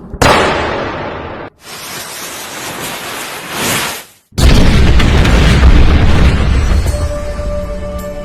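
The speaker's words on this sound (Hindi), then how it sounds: "तोप के धमाके के बाद" A sudden loud cannon boom opens, followed by sustained roaring bursts and a second heavy blast with rumbling noise trailing after it.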